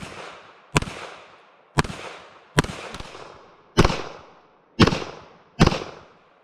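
Seven sharp, loud gunshots from a Kel-Tec PMR-30 pistol, fired at uneven intervals with brief echoing decay after each crack.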